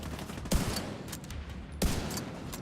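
Two sharp single-fire gunshots ring out about a second apart in The Division 2, each a crisp, close report over a steady hum of game ambience.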